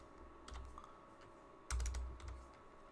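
Keystrokes on a computer keyboard while a spreadsheet formula is entered, quiet and close, with a few scattered taps and then a short denser burst of clicks.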